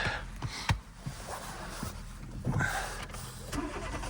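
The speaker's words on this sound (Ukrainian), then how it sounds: "Зараз заведемо автомобіль." A 2007 Renault Megane 2 with a 1.6 petrol K4M engine cranks with a few clicks and turns over, then settles into a steady close running rumble.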